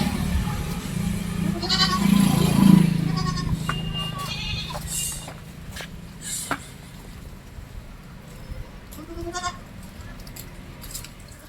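Goats in a small livestock herd bleat a few times, loudest early on, with faint background noise and occasional distant voices.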